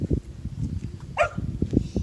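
A dog at the Tal Hammam site in Jordan gives a sharp bark amid soft rustling and scuffing outdoor noise, a single close yelp standing out in the middle.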